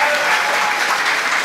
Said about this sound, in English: Let's clap for them, ladies and gentlemen.